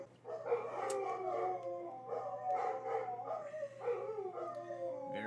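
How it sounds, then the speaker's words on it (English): Several dogs howl and bark together indoors, overlapping long wavering howls broken by sharp yips and barks, close and continuous with no talking. "I'm gonna wait for my dogs to shut up."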